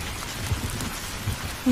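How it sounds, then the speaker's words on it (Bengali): Steady, heavy rain pours down without pause, a dense hiss with a few soft low thumps, continuous throughout and fairly close. "বাইরে কি ভীষণ বৃষ্টি হচ্ছে।"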